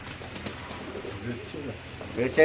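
Pigeons coo softly at a pigeon seller's cages, faint low calls repeating under a voice talking nearby, with a brief louder burst at the end.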